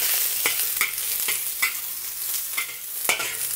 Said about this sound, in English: we'll add in our red onions. 1 whole red onion, cut into wedges like this, put them all in